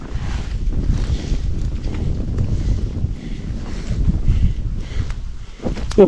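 Strong wind gusts outdoors in a rural setting, buffeting loudly and unevenly against the microphone in heavy rumbling surges, with a few faint scattered clicks and no clear talk.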